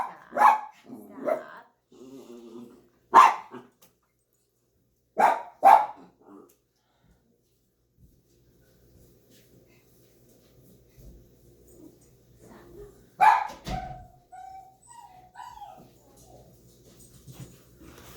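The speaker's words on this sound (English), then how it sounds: "Sorry, my puppies are barking." Puppies bark in short sharp bursts, several yaps early on and another flurry later, close by with quiet pauses between.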